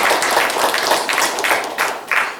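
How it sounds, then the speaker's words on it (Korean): A church congregation at a Sunday worship service applauds, with brisk rhythmic clapping in a series of bursts that fade toward the end. "우리 박수 한번 좀 올려드립시다"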